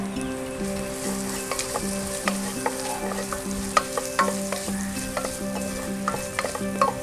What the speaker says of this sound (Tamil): இப்போ நம்ம வெட்டி வச்சிருந்த வெங்காயத்தையும் கொத்தமல்லி வேரையும் சேர்த்துக்கலாம்